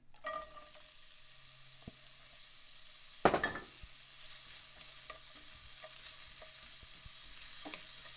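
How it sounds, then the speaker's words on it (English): An onion sizzles quietly in a hot pan, with a sharp clink of a utensil partway through and soft stirring noises. "you could just grab one onion and you hear the sizzle"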